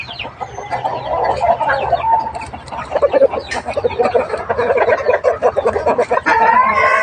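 Fighting cocks at a farm cluck and crow in a loud, busy chorus close by, with overlapping calls continuing steadily and no talking.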